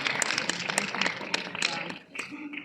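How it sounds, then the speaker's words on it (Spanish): A church conference audience gives warm applause, a dense patter of many hands clapping close by, thinning briefly near the end, with a voice speaking over part of it. "Mientras damos un aplauso a Dios"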